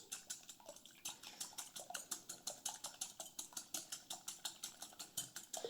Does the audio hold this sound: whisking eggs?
yes